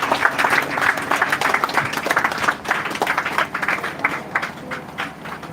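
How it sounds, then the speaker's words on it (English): A school ceremony audience applauds, a dense, lively burst of many hands clapping that holds steady and then gradually thins out. "If we are certain that we want to clap, let us clap, please."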